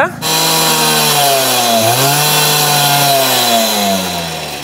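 Puch Maxi moped with a 28mm flame tube exhaust held at full throttle, a loud, close, buzzing two-stroke drone with a slightly muffled tone that dips briefly in pitch and then climbs again before easing off.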